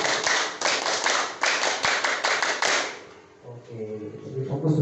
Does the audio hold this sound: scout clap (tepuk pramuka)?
yes